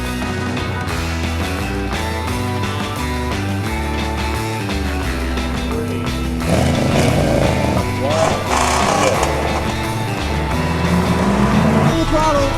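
1968 Ford Mustang California Special and 1968 Corvette Stingray launching side by side in a drag race; loud, stepping engine notes that rise as they rev, then a roaring, rough surge as they pull away.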